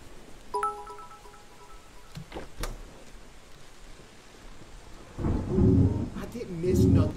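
Steady rainfall with deep, rolling thunder in the video game Endless Days, swelling louder toward the end, plus a few short electronic chimes early on.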